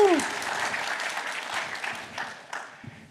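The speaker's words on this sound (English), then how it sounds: "please give a round of applause to Mike" An audience at a conference breaks into applause, a dense spread of clapping that holds steady and then thins out toward the end.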